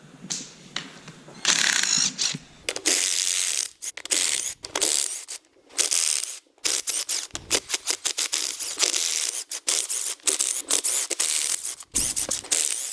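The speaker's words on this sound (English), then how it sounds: "I'm going to be taking off the bolts, and we're going to be taking the pan off right after" Ratchet wrench removing 10 mm and 14 mm oil pan bolts on a Nissan GTR, a loud, close, rapid clicking that comes in repeated bursts with short pauses between them.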